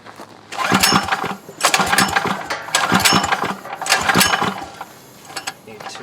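Recoil pull-start attempts on a Yerf Dog 3203 go-kart engine: four or five separate ratcheting bursts of cranking, each about a second long, close and fairly loud with short gaps between, and no sign of the engine catching.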